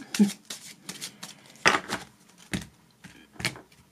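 A deck of tarot cards is shuffled and cut at close range, soft riffling and slapping bursts separated by brief pauses, fairly quiet.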